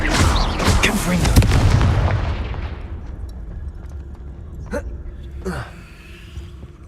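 Confringo spell blasts from the video game Hogwarts Legacy: a loud, heavy explosive boom rolls out and decays over a few seconds, followed by a couple of sharper, thinner magical bursts later, with a voice speaking at times.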